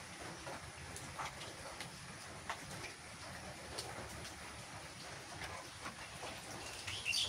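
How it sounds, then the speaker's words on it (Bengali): Steady rain falls on a rural homestead, a continuous soft hiss of drops spread evenly across the whole stretch with no talking and no pauses. "বৃষ্টি পড়তেছে"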